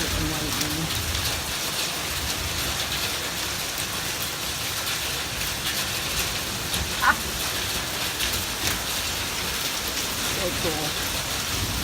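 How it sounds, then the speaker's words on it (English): Hail and heavy rain pelt down in a dense, constant patter outdoors during a mountain thunderstorm near Tehachapi, California, with a brief voice speaking partway through. "It is hailing out and it is thunder and lightning."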